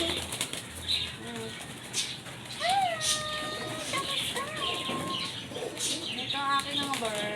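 Pet pigeons feeding close by, with soft cooing, bright chirping calls and bursts of fluttering wings over a busy, continuous background.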